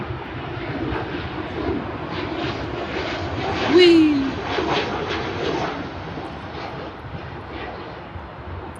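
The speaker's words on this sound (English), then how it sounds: "Here comes the 737." A Boeing 737 airliner flies past at Paine Field, its engine roar a steady, moderately loud rumble that swells briefly in the middle as a voice exclaims nearby over the outdoor noise.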